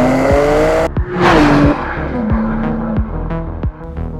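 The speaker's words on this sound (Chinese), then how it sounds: "直列六缸引擎的轰鸣声听起来就非常的好听。" A 2023 BMW M2 G87 twin-turbo inline-six roars up close, its note rising and falling through several sharp gear changes, loud with no talk.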